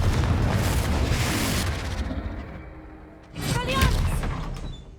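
Confringo blasting spell explosions in Hogwarts Legacy: a dense, loud burst of booming noise fades over a couple of seconds, then a second sharp blast hits with ringing, crackling debris that trails off.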